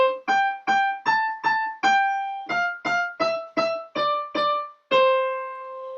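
A quick piano melody of a dozen struck notes with fuller harmony beneath, ending on a sustained ringing chord that fades out.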